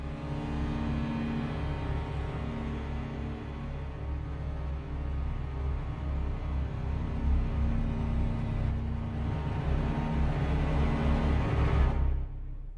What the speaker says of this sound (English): I used our basses cluster sustains, our cello tremolo sol ponc clusters, and our cello arco clusters, and I layered them up to create this.